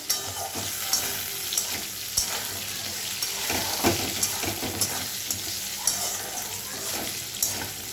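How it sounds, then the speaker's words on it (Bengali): Fried potatoes in a pan crackle with a steady sizzle as spice paste goes in, with scraping stir strokes and a few sharper clinks recurring throughout, fairly close and moderately loud, no voices. "এই আলুর মধ্যে আমি মশলাটা দিয়ে দেবো"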